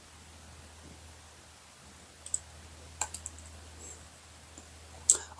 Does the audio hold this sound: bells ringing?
no